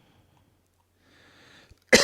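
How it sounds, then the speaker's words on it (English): A man coughs once, loud and close into a microphone, a short harsh burst after a stretch of near silence and faint breathy noise. "I didn't mean to cough down the microphone"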